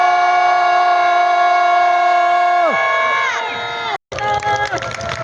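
A large rally crowd in South Korea lets out a loud sustained collective shout, rising tones sliding down together, then a brief cut and renewed shouting with cheers.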